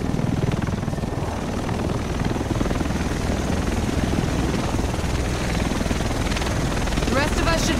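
A helicopter approaches in The Division, its rotor thumping as a dense, loud, continuous roar that fills the whole stretch without letting up.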